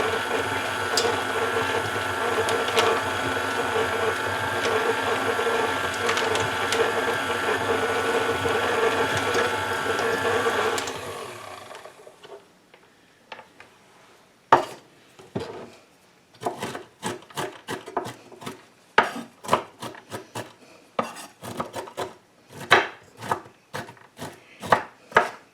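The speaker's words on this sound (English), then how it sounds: "I'm not going to chop these too much because it is date and nut bread." Knife chopping dates and walnuts on a board for date and nut bread: a run of sharp, irregular chops near the mic, starting after a stretch of steady background hum and continuing in quick clusters.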